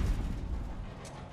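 A grenade explodes in the video game Call of Duty Modern Warfare, one deep heavy boom that rumbles up close and then slowly dies away.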